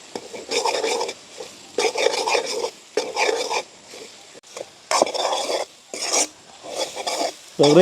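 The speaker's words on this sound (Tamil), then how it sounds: "இப்படி தொடர்ச்சியாக கிண்டி கொண்டு போகணும்" A spatula stirs egg frying in oil in a pan with turkey berry, in repeated bursts of scraping and sizzle, close and fairly loud with short pauses between strokes.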